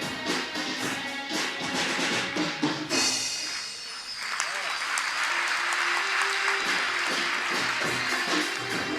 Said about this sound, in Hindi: बच्चे भी तेज तालियां